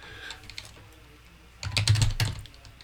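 Keys clatter on a computer keyboard in a short burst, a few light taps at first and then a quick louder run of keystrokes near the end, close and without speech.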